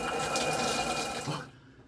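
Shower water runs in a steady broadband spray, loud and close, then cuts off abruptly near the end, leaving a faint quiet tail.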